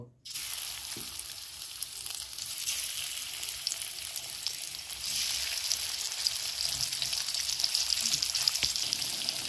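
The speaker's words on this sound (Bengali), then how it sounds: "তেলটা গরম হয়ে গেছে, এবার ভেজে নেব।" Sweet pumpkin slices fry in hot oil in a wok, giving a close, steady, continuous sizzle that grows slightly fuller partway through, with no talking.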